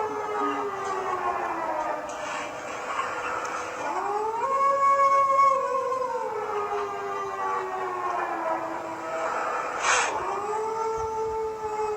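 A man imitates a mosque siren with his mouth for breaking the fast, a long wavering wail that rises and falls in slow sweeping pitch over about twelve seconds, loud and sustained, with faint background noise.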